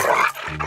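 A dog in a Telugu comedy film scene gives a brief, low, rough growl-like vocalization, close and moderately loud, broken by a short gap.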